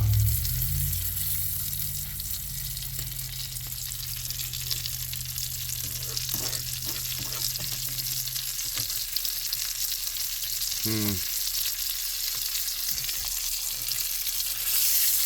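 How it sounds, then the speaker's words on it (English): A steak sizzling and simmering in a pan, a steady bright hiss of frying fat filling the whole stretch, close and fairly loud, with a low hum early on and a brief clatter of movement midway. "Don't you just love the sound of a steak simmering in a pan?"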